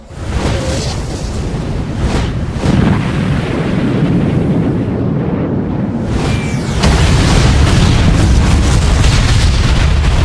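A weapon fires in an Ultraman movie battle, heard as sustained loud booming explosions and rumbling blasts that fill the whole stretch and swell even heavier near the end.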